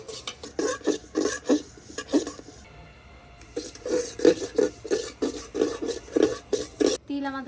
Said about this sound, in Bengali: তিল আমাদের ভাজা হয়ে গেছে, এবারে নামিয়ে নেব।